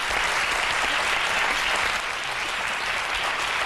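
A TV studio audience on a football comedy show claps hard and steadily, a thick, continuous wash of applause with no talking over it.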